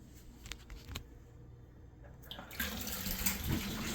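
Water from a shower fed by a tankless hot water heater, a soft hiss with a few clicks and knocks that swells into a loud, steady rush as the flow is turned back on.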